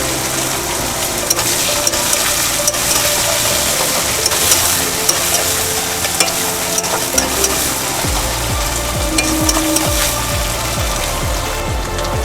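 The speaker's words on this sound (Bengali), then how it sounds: "মিডিয়াম সাইজের 2টো পেঁয়াজ আমি দিয়ে দিলাম। বন্ধুরা, এবার একটু একটু ভেজে নেব।" Two medium onions frying in a pan, a steady loud sizzle and crackle with occasional scraping of a utensil against the pan.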